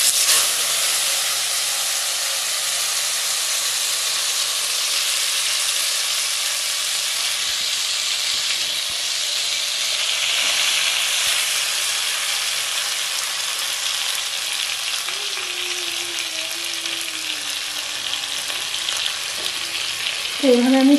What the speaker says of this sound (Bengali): তেলটা দেখো গরম হয়ে গেছে। এবার আমি এর মধ্যে চিকেনটাকে সুন্দরভাবে বসিয়ে দেব।